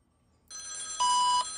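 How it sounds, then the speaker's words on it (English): A telephone rings in an X-Files video game, a bright electronic trill starting suddenly after brief silence and swelling louder midway, heard alone and close. "I want to answer the phone here."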